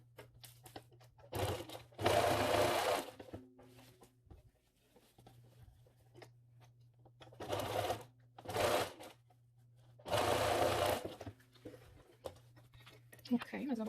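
A home sewing machine stitches a fabric face mask in several short, quiet bursts, with a person talking in the gaps between runs.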